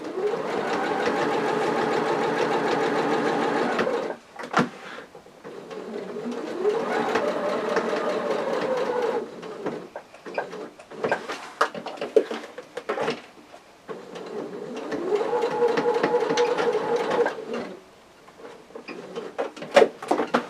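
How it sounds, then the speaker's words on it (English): A domestic sewing machine with its regular foot stitches a pocket onto a fabric tote bag, a steady whirring motor hum in three long runs separated by brief pauses and small clicks as the fabric is turned. "I'll put the regular foot back on my sewing machine and literally stitch around in a box all the way around to attach the pocket."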